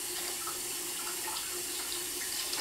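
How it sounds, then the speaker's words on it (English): A kitchen tap runs in a steady hiss over salmon while the salt cure is rinsed off, with no voices and only faint splashing variations. "we're going to rinse it all off very thoroughly and make sure all the salt"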